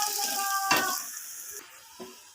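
Onions fry in a pan while being turned over and over, a close hissing sizzle with a scraping stir that thins out and quiets partway through, ending with one soft knock.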